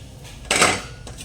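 Tomato, onion and masala are stirred in a cooking pot, with a brief scraping clatter of the spoon against the pot in the middle and a fainter scrape near the end.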